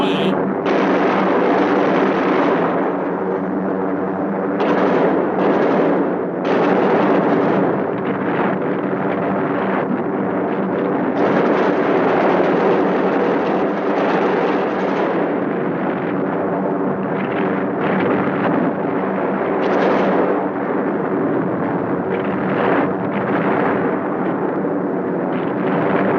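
A loud, continuous roar of B-17 bomber engines and blasts from bombs bursting below during a 1944 raid, sustained and heavy throughout with surging swells, no clear speech.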